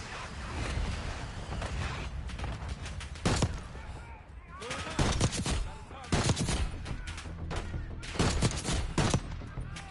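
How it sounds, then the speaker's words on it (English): Gunfire and explosive blasts from incoming mortar fire in the Black Ops 6 campaign, with loud broadband bursts repeating through a dense, continuous battle din. "Mortar on the way."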